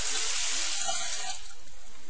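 A steady rush of water poured into a cooking pot on the stove for rice pudding with rice and a cinnamon stick, a loud close gush that thins out and settles toward the end.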